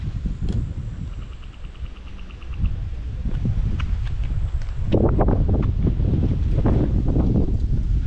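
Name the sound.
wind on a hiking route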